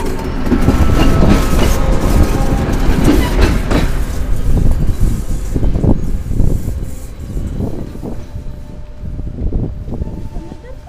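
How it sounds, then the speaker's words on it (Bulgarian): A long train passes close by, its heavy rumble and rhythmic clickety-clack of wheels on rail joints loud at first and slowly fading, with people talking faintly underneath. "ела тук, влак идва."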